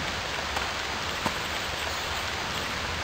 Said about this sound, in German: ja gut, es regnet zwar durchs Dach